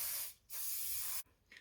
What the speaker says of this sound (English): I will generally spray it with a bit of hairspray.